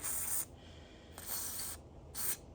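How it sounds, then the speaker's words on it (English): An aerosol can sprays in three short hissing bursts, close and fairly quiet, with brief pauses between them. "we're just gonna kind of give it a spray"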